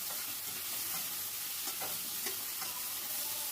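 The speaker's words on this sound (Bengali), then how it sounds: "আবারও ঢাকা তুলে একটু নাড়াচাড়া করে নিচ্ছি।" Masala fries in an uncovered pan with a dense, steady sizzle while a spoon stirs through it, giving faint scraping strokes close up.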